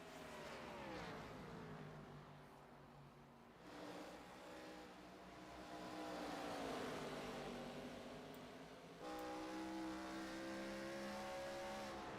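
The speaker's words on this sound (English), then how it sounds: "We can hear the wheels spin in these cars." ARCA Series race car engines roar and whine at high revs at Iowa, wheels spinning, with shifting harmonic tones and a continuous rumble from cars passing close by.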